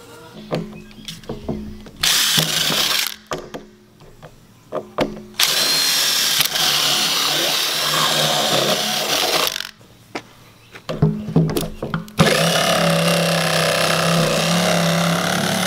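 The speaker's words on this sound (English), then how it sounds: "Take a jigsaw and cut that out" A jigsaw cuts through the plastic lid of a rain barrel in loud, close buzzing runs, stopping and restarting several times with short quieter handling gaps in between.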